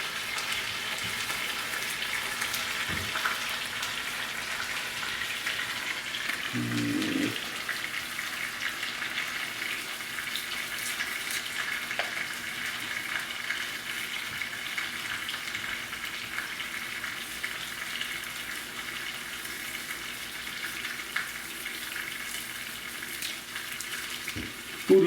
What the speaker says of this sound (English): Searing up the meat, searing up the meat.